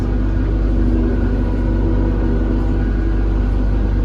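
A Lovol GM80 combine harvester engine drones steadily while the machine drives backward, a loud, constant low rumble with no breaks and no talk.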